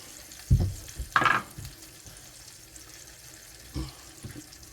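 Deer testicles fry in a pan with a faint, steady sizzle, broken by a few sharp clanks of a utensil against the cookware.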